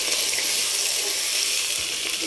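Ginger and green chilli paste added to hot oil with whole spices while cooking achari pulao, giving a steady bright sizzle and hiss that fills the whole stretch without a break, with no one talking.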